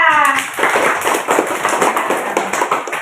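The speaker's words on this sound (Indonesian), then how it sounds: "Tepuk tangan untuk Laila." Classroom of students clapping together for a classmate, a dense burst of hand claps following a brief voice at the start, steady and fairly loud throughout.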